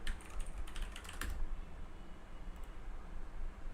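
Quick clattering keystrokes on a computer keyboard as a chat message is typed, a dense burst of clicks for about a second and a half, then only scattered faint taps against quiet room noise, with no talking.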